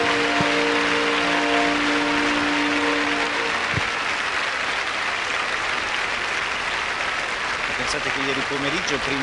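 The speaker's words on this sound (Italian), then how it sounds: "Il nostro grande applauso." A large crowd at the 1997 Eucharistic Congress in Bologna applauds continuously in a broad, even roar of clapping, with a voice speaking over it at first and tonal sounds drifting in.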